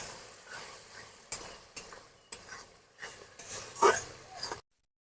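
A spice paste of ground rice, melon seeds and poppy seeds is fried and stirred in a pan with a splash of water, giving repeated rhythmic scraping strokes over a soft, steady sizzle.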